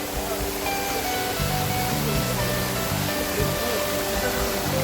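Rupshi waterfall at Sitakunda roars in a constant broad rush of falling water, loud and close, with faint indistinct voices now and then.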